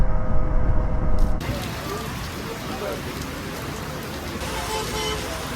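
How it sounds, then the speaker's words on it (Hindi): Heavy monsoon rain pours steadily during a motorcycle ride toward Indore, a dense hiss of rain that grows louder for the opening second before settling into a constant wash. "बारिश यहाँ पे तेज़ हो गई"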